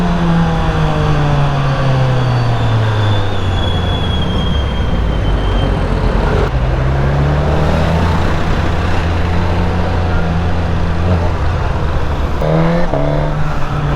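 A 2022 Suzuki GSX-S1000 with a Yoshimura R11 exhaust revs loud and close, its engine note rising and falling in long sweeps, dropping back and then climbing again.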